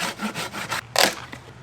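A hand saw cuts camp firewood outdoors at a rainy riverside campsite: several quick rasping strokes, then one louder, harsher stroke and a faint scrape at the end.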